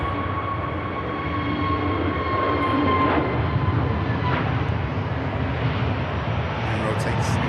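A KLM airliner takes off from Manchester Airport, its engines a loud sustained roar with a faint whine above it, while someone talks over the noise.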